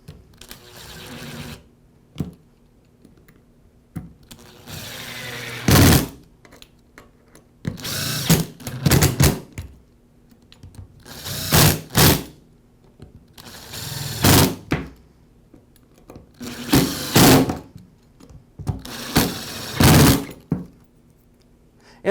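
A cordless power driver runs in repeated short bursts while screws are driven back into the gear case of a Milwaukee cordless hammer drill, with brief whirring runs separated by pauses, handling clicks and thunks, all close and loud.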